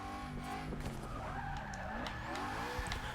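Tires skidding and squealing through a handbrake turn in Forza Motorsport 6 during a Formula Drift run at Road Atlanta, a continuous loud screech over a revving engine, sustained for several seconds with shifting pitch.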